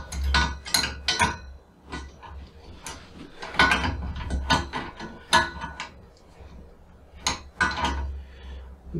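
An adjustable wrench tightens a nut during assembly of a megatree, giving a run of close metallic clicks and ratcheting scrapes in irregular bursts, with a low hum underneath.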